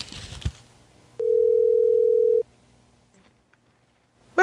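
After a phone call is hung up, a soft click is followed by a steady, unbroken telephone tone lasting just over a second, heard alone and clearly, then quiet.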